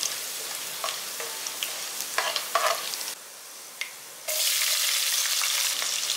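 Onions frying in a pan for garlic pepper rice: a steady close sizzle with scattered clinks and scrapes of stirring, growing louder and brighter toward the end, with no talking.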